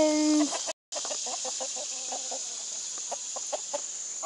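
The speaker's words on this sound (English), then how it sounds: "Chickens!" Chickens cluck in a pen with a rapid series of short, close clucks and calls, a brief crowing note at the start, then a momentary dropout before the clucking continues steadily.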